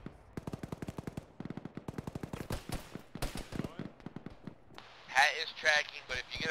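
Autocannon fire in a military tactical video game rattles out in rapid, evenly spaced bursts of sharp shots, fairly close, with louder blasts and radio-style voices talking toward the end.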